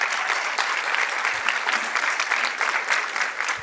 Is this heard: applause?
yes